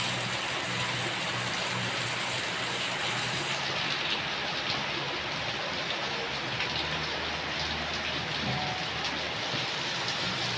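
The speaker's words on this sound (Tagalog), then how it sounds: "After the heavy rains mga wow, yan, naglabasan na ang mga birds." Heavy rain falls steadily on a rainy morning, a dense, even hiss that holds at the same level for the whole stretch with no voices over it.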